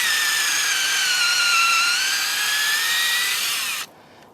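A power drill boring a tap hole into a maple tree for syrup, a loud steady high whine lasting several seconds before cutting off abruptly, heard alone.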